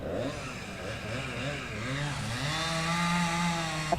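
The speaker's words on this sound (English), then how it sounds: "You can hear the chainsaws in the background here" Chainsaws roar during storm cleanup after tornado damage, with continuous revving and shifting engine pitch that rises and falls as they cut, fairly loud and close.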